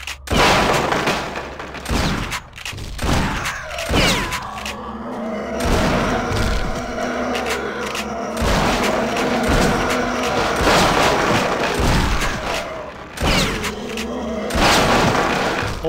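Shotgun blasts in a first-person shooter game, with ricochets and wood and stone cracking: a series of heavy, booming shots fired at irregular intervals, each followed by rumbling debris and impacts, loud and close throughout.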